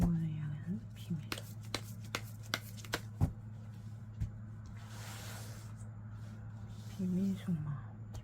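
Tarot cards are shuffled and drawn by hand: soft rustling riffles and sharp papery taps at uneven intervals, close and quiet, with a faint voice murmuring near the end.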